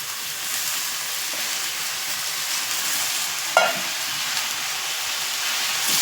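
Amaranth leaves fry in hot tempering in a pan, giving a steady close sizzle with a brief sharp clatter partway through as the leaves are tossed or stirred.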